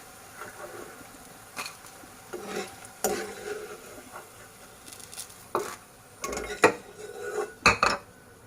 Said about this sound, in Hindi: ये बैंगन अब फ्राई हो चुके हैं। अब हम इसको निकालेंगे।